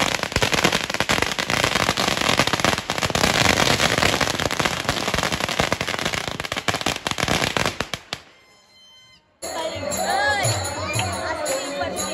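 Firecrackers burst in a dense, loud barrage at a village Hanuman Jayanti celebration, crackling continuously for about eight seconds before a brief lull, then more scattered popping and crowd noise return.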